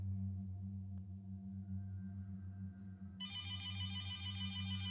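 A telephone rings inside a point-and-click horror video game, its bright electronic trill cutting in abruptly partway through and repeating steadily over a constant low droning ambience.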